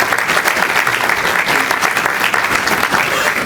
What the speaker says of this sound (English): please give a big round of applause for the entire staff at the Office of Senior Resources